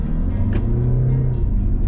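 A 2021 Hyundai Palisade accelerating in Comfort mode, its engine giving a steady, loud low drone heard from inside the cabin for a couple of seconds.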